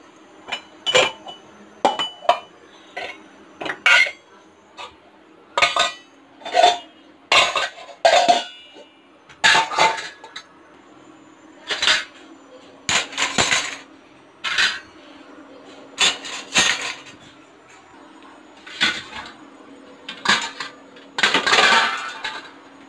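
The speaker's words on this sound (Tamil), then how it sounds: "இப்போ நான் பாத்திரம்லாம் கொஞ்சம் அடுக்கி வைக்க போகிறேன்" Metal pots and dishes clink and clatter as they are arranged in a kitchen one after another, in irregular bursts of clanking with brief quiet gaps between.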